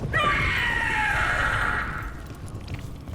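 A Gloomhowler monster in the video game Dragon Age: The Veilguard lets out a loud, strained scream that holds for about two seconds and then fades into a lower rumble.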